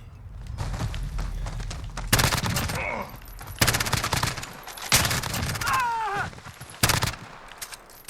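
Bursts of MP9 submachine-gun fire in Call of Duty Modern Warfare, several loud rapid volleys separated by short pauses, with game effects between them.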